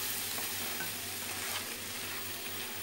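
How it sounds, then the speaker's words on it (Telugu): Tomato paste sizzles and fries steadily in a pan while being stirred, with a continuous close crackle and scraping for a mutton paaya preparation. "ఒక 2 నిమిషాలు ఇట్లా వేయించాలి."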